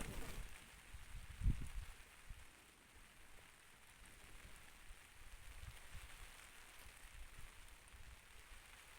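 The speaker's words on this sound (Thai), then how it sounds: "ฝนตกแล้ว" Steady rain falls in a coffee garden, an even hiss of drops on leaves and surfaces at a low, constant level, with one brief knock early on.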